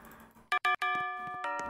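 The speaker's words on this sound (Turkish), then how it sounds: "Abi nasıl zil yapmışsınız var ya" A doorbell in a Roblox game rings several times in quick succession, clear multi-tone chimes with sustained ringing tails, close and loud over a quiet room.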